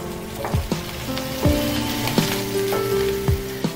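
Capsicum fries with vegetables in a pan for fried rice: a steady, close sizzle broken by repeated spatula scrapes and clanks against the metal at an uneven stirring rhythm.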